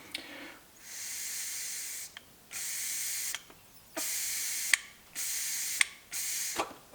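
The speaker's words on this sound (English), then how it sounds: "So you can hear the sound when the float is down, so the valve is open" Air hisses through the open float valve of a Yamaha TW200 carburetor on a motorcycle left outdoors for years, coming in five steady bursts of about a second each, separated by short silences and small clicks.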